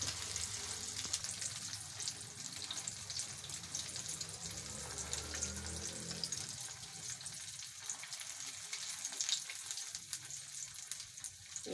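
Vegetable pakoras sizzle steadily in hot oil as they are turned, a soft, continuous crackling hiss with faint stirring scrapes, fairly quiet and without talk.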